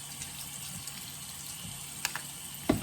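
Water runs steadily as Cyspera cleanser mask is rinsed off skin, a soft continuous faucet flow with a few light splashes near the end.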